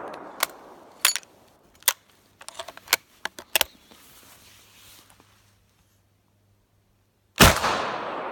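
A Mauser Gewehr 71/84 black powder rifle fires a single loud, sharp blast late on, after a series of metallic clicks and clacks from handling the action in a quiet setting.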